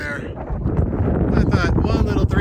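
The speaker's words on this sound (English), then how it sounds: "That wind is a little chilly." Wind blowing across a mountain trail on the Continental Divide Trail, gusting and buffeting the microphone with a rough, loud rumble while a person speaks over it.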